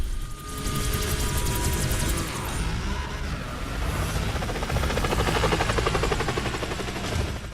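A video game helicopter's rotor thumps steadily under dense engine drone and clattering mechanical noise, loud and continuous throughout, in the racing game Split/Second.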